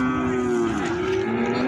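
A cow gives a single long, low moo up close at a cattle fair in Buíque, Pernambuco, steady and loud throughout.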